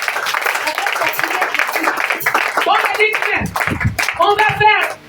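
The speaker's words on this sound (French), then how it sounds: "Est-ce qu'on peut acclamer le roi des autres?" A church congregation claps and cheers together during a service, steady loud applause for several seconds with voices calling out and a speaker talking over it near the end.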